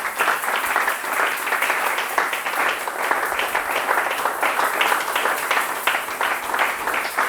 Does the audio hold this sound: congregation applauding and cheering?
yes